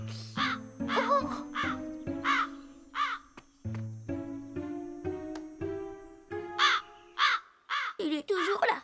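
A cartoon crow caws over and over in a steady series of loud, close, harsh calls, with brief pauses and a final ragged flurry of cries.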